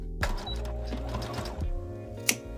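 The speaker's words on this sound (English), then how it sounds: "then I'm going to stitch it together and cut it" A sewing machine stitches elastic onto a tulle sleeve of a small dog dress, with a quick, close run of needle clatter, brief pauses and a sharp click near the end.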